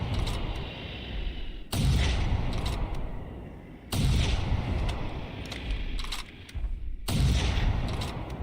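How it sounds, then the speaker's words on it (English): Heavy rifle shots from the video game The Hunter Primal during a dinosaur hunt, four loud booming blasts spaced a couple of seconds apart, each trailing off into a long rumbling echo. "Come on, how many times I gotta shoot you?"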